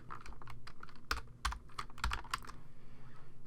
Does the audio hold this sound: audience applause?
no